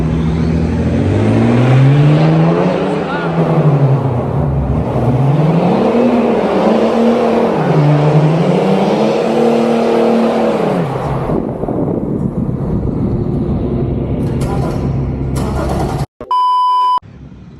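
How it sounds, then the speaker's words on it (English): An old BMW with a straight-through exhaust does a burnout under a tunnel, the engine revving hard and holding at high pitch with rising and falling surges, loud and close, then cutting off followed by a brief electronic beep. "Right, it's time for a burnout. Here we go, underneath the tunnel."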